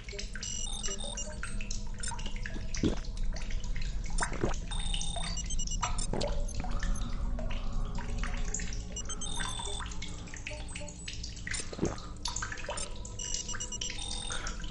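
Continuous trickling and running water in The Solus Project game, steady throughout with occasional drips and soft clicks over a low ambient hum.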